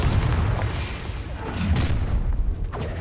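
A Confringo fire-spell blast in Hogwarts Legacy lands as a deep booming explosion with rumbling thuds and crackling debris, loud and close, amid continuous combat noise.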